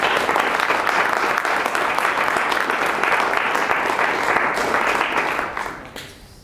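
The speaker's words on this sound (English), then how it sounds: "you should give a big round of applause to the organizers" Audience at a Toastmasters public speaking meeting gives the organizers a sustained round of applause, dense steady clapping that fades out near the end.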